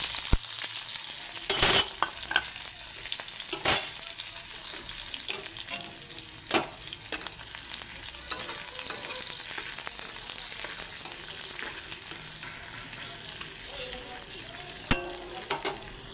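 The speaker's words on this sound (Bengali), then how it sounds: "এখন আমি ফোড়নে দিয়ে দিচ্ছি কালো জিরে। আর এইখানে নিয়ে নিয়েছি রসুন কুচানো, লঙ্কা কুচানো আর পেঁয়াজ কুচানো।" Black cumin tempering with chopped garlic, green chili and onion frying in hot oil, a dense continuous sizzle with scattered sharp spatula clicks and scrapes throughout, no talking.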